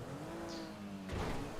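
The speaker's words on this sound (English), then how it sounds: "I hear engines behind me" Car engines in the GTA video game: a steady low motor drone with a rising whine, then a brief louder rush of noise near the end, moderately faint with no talk.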